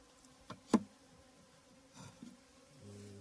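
A honeybee hive buzzes faintly in a quiet setting, with a few soft knocks and a short, clearer hum of a bee passing near the end.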